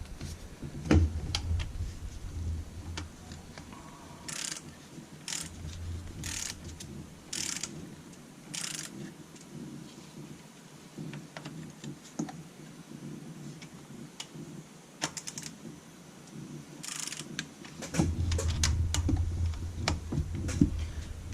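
A torque wrench tightens cylinder head bolts on a 2014 Dodge Charger Pursuit, making intermittent ratcheting clicks and sharp metallic ticks in quick bursts. Quieter mechanical handling fills the gaps between them.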